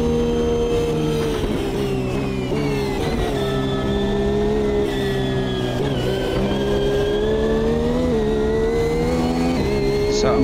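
Toyota LMP1 prototype race car engine in the sim racing game Automobilista 2, a loud, steady high-pitched drone with gear-shift dips and rising revs throughout, no talking.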